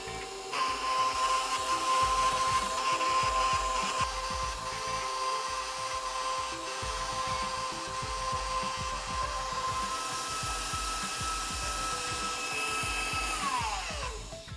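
An electric mixer churns whole grain, flourless vegan oatmeal cookie dough with a loud, steady motor whine that runs unbroken for the whole stretch, with no talking.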